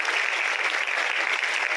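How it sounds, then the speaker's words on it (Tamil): Applause for a Bharatanatyam dancer after her performance, a dense, steady wash of clapping from a seated audience throughout, with no voices standing out. "செல்வி ரினுஷா சத்யசீலனுக்கு மீண்டும் ஒரு முறை உங்களின் பலமான கைத்தட்டங்கள் உண்டாகட்டும்"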